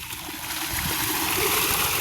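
Water pours steadily into containers being filled, a close, even rushing splash that swells slightly louder partway through, with no talk over it.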